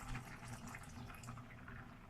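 Water pours into a pot of rice being cooked for rice pudding, a steady close trickling and splashing flow lasting the whole moment with no talking.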